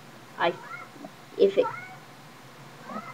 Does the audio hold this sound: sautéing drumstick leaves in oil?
no